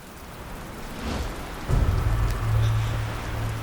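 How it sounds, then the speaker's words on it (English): Rain falling steadily aboard a boat in worsening weather, a soft continuous patter with a low rumbling swell that thickens midway and carries to the end, no voices. "Guess there's a little rain coming down."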